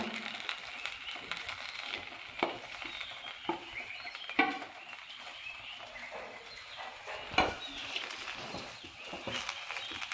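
A prawn biryani mixture is stirred with masala, giving soft, wet scraping and occasional clinks over a low background, fairly quiet and irregular.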